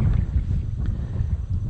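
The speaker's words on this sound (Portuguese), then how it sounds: "E tá ventando muito, cada pouco tá chovendo." Strong wind gusting over a kayak on the Rio Verde reservoir in cold, rainy weather, a loud steady low rumble of wind noise buffeting the microphone throughout.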